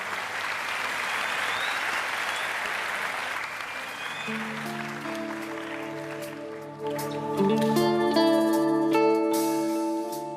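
Studio audience on the Turkish singing competition O Ses Türk applauds loudly and steadily, then the clapping gives way to music that rises near the end.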